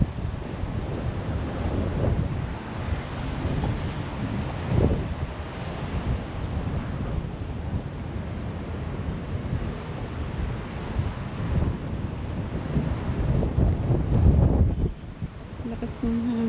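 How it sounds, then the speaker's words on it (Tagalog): Strong wind blows at a New Zealand coast and buffets the microphone in a steady, loud rumbling roar that lasts throughout, with waves likely in the mix and a voice briefly heard. "Lakas ng hangin."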